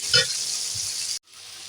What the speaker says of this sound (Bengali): পেঁয়াজটা তাতে করে ভালো ভাজা যাবে